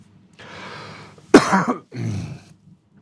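A single sharp cough bursts out close to the microphone, with softer breathy throat noises just before and after it.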